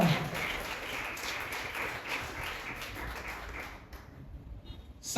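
A church congregation at a Spanish-language service claps in a steady wash of applause that fades out after a few seconds.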